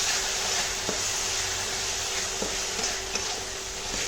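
Ketchup being stirred into a burger filling with a spoon, giving a steady soft scraping and mixing texture with a few faint clicks against the bowl, close and alone without talk.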